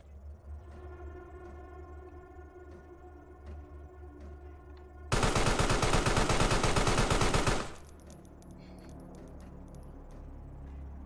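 Gunfire in the Carrion video game: a single loud, dense burst of rapid automatic shots lasting a couple of seconds, standing out sharply against a quiet, humming background before it cuts off.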